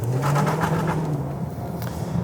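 Lexus LC sports coupe engine revving, a strong, deep roar that swells early and then eases slightly, heard close and alone without talk.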